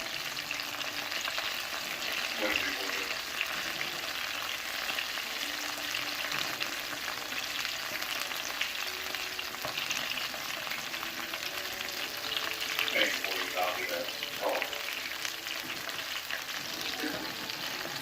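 Breaded chicken tenders and okra fry in a pan with a steady, close sizzle that runs throughout, joined by occasional scraping and stirring with a spatula.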